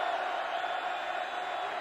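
A football stadium crowd at a 1985 Alabama versus LSU college game roars in a steady, broad wash of cheering, sustained and loud without a break.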